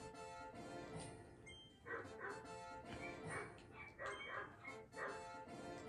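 Neighbors' dogs bark repeatedly in the distance, with several yips and a whimper in an irregular run of barks, faint under a game's music.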